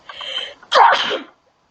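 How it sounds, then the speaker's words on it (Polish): A single close, sharp human sneeze, a quick intake followed by a loud burst, heard alone against silence. "Przepraszam, kichnąłem."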